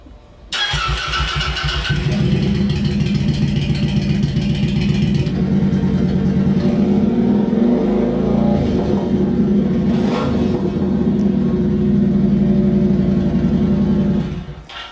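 A V-twin motorcycle engine cranks and catches, then runs loudly with a deep, uneven, lumpy throb, revving in bursts before falling quiet at the end.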